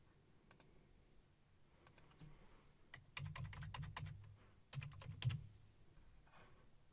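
Keys on a computer keyboard are tapped in quiet, quick bursts during a Trello REST API coding demo, with short pauses between runs of clicks and no one speaking.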